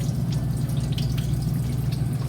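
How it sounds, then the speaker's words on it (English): Water runs steadily from a tap as hands are rinsed, a continuous close splashing stream with a strong low rumble beneath it. "Usually you can't just rinse, you continue to scrub while rinsing."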